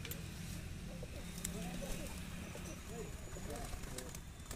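A yellow-eyed desi Rampuri pigeon coos in low, rolling phrases repeated across the stretch, close by, while people talk over and around it.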